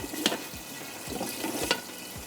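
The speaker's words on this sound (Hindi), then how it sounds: "यहाँ पर चिकन हमारा फ्राई हो रहा है" Chicken frying in a pan for golden five spice chicken, a soft steady sizzle with faint clinks and stirring scrapes, no voices.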